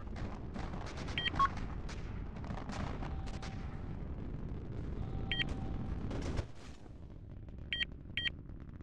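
Missile launches in a 4v4 video game match: a few muffled, booming blasts over a rumbling battle background, with short electronic beeps between them.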